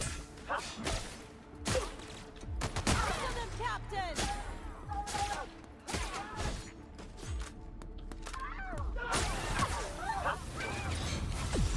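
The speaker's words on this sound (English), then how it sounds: "there's like gunshots happening in the other end of the room" Gunfire in the video game The Outer Worlds comes as repeated sharp cracks and bursts. Some shots are close and some farther off, with whooshing and impact thuds mixed in throughout. Game dialogue plays faintly underneath.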